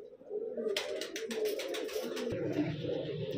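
Pigeons coo in soft, repeated low calls, close by, along with a brief patter of wingbeats or fluttering partway through, with no voices.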